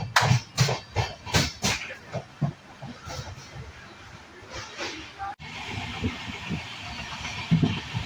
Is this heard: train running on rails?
yes